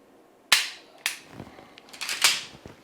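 Live-fire shooting practice: a sharp gunshot, then several more sharp cracks spaced irregularly over about two seconds, each snapping in quickly and fading fast.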